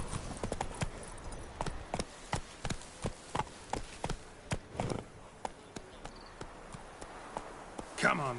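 Hooves of Roach, a horse in The Witcher 3 video game, clip-clop in a steady walking rhythm, crisp and close, with a player's voice over it.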